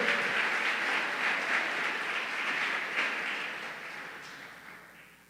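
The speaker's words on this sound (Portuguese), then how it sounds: "Aplauda o Senhor." Church congregation applauding during a sermon, a broad, sustained wash of many hands clapping that holds steady and then slowly fades away.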